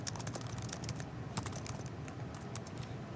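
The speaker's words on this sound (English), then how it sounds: "here I'm going to type in a book" Quick, uneven keystrokes on a computer keyboard, close and fairly quiet, with a few sharper clacks standing out and no voices.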